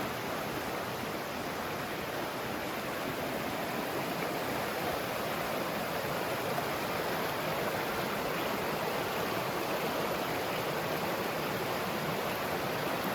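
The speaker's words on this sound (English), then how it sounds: "Beautiful river." A river along Vermont's Long Trail rushes steadily with a continuous broadband roar, constant and loud, with no voices or other sounds over it.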